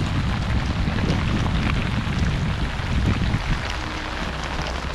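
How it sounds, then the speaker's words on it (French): Dense, steady patter of afternoon rain in the Gran Sabana, Venezuela, falling on surfaces, a constant hiss with a low rumbling undertone and no talking. "De la pluie en après-midi tout le temps"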